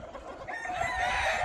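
Free-range village hen clucking nearby outdoors, a short drawn-out throaty call rising in intensity over a second and a half.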